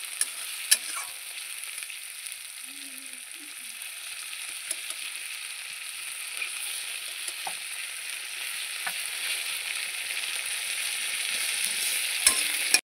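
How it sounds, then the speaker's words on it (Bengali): Onions and tomatoes frying together in a pan over a high gas flame, a steady close sizzle with occasional scrapes and clinks of stirring throughout. "পেঁয়াজ টমেটো দুটোই ভাজা হয়ে গেছে"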